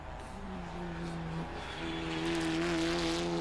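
Race cars of the Polo Cup India series roar around the track as the pack joins in, a sustained engine drone that swells louder toward the end.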